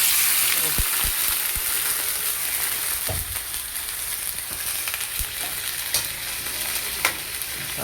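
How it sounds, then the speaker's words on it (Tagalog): Adobo with Mama Sita's barbecue marinade and oyster sauce sizzles steadily in a pan while being stirred, with scattered utensil scrapes and clicks over a constant loud hiss. "Halu-haluin mo lang yan."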